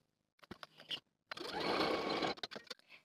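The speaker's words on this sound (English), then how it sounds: "sew it again with a 3/8 inch seam allowance" A sewing machine stitches a pant seam with a 3/8 inch seam allowance in one steady, close, one-second burst, framed by brief handling clicks and fabric rustles before and after.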